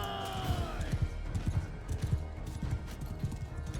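Cavalry horses' hooves clip-clop in a video game battle, a steady, fairly close rhythmic patter of many hoofbeats with faint whinnies mixed in, heard beneath an ongoing game soundscape.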